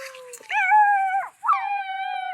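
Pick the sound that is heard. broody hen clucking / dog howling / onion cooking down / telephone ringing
dog howling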